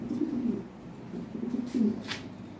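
Lahori pigeons at a pigeon farm give soft, low, rolling coos, a few short phrases close by over a quiet background.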